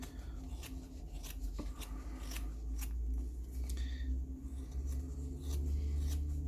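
Scissors cutting through felt in a steady series of short snips and rustles, close and fairly loud, with no talking over them.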